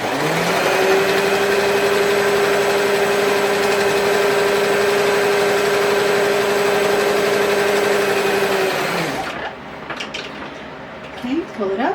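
A sewing machine stitches fabric for a neck-hung phone pouch, its motor giving a steady, even whir for about eight seconds before stopping abruptly and leaving faint handling noises.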